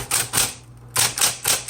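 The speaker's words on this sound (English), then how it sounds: "So let's go ahead and do some typing." Bursts of brisk key strikes on a 1970s Smith Corona Electra 220 electric typewriter, close and clear, in short clusters separated by a brief pause.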